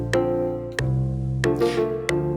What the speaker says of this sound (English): I wanted to play with this guitar here. It just sounds like this.